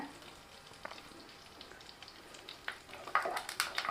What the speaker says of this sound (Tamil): கருவேப்பிலையும் நல்லா பொரிய ஆரம்பிச்சிருச்சு